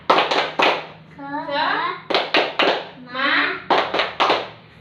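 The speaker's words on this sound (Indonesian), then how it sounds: "mari kita tepuk semangat, yuk berdiri" A primary-school class claps through the 'tepuk semangat' spirit routine, sharp group claps in short rhythmic bursts alternating with children's chanted voices, close and lively in a classroom.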